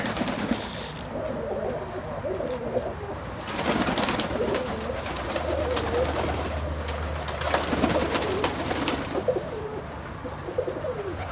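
Russian Statnyje pigeons coo repeatedly inside a pigeon loft, overlapping throaty calls from several birds close by, with scattered rustling and occasional wing movement throughout.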